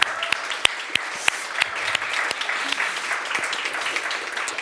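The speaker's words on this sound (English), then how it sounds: "Some applause for our W7 advisors here," Applause from a conference audience at the Women7 Summit 2022 panel, a steady patter of many hands with a few sharp individual claps standing out, moderately distant and sustained throughout.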